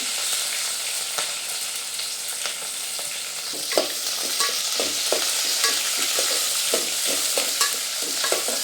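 Onions frying in a pan with cardamom, cloves, cinnamon, bay leaf and curry leaves give a steady close sizzle. Scrapes and clicks of a spoon stirring recur throughout.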